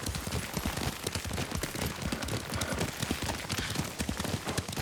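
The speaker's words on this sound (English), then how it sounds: "Lord Sakai taught me to ride a horse." Dense, rapid hoofbeats clatter continuously, like a horse galloping at speed, loud and close throughout, in the video game Ghost of Tsushima.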